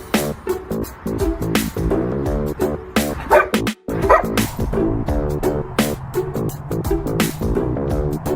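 Dog barking and yipping in quick repeated bursts under loud layered background music, steady throughout with a brief gap near the middle.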